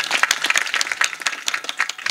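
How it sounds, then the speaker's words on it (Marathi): An audience at a kirtan claps for the musicians, dense rapid applause from many hands, loud and close, with no voices over it. "एकदा टाळ्या वाजवा यासाठी."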